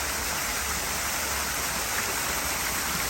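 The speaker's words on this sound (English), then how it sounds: "the one we really want to talk about is our 33-foot waterfall here" A 33-foot waterfall in a restaurant backyard roars with a loud, steady, broadband rush of falling water that does not vary, with no voices over it.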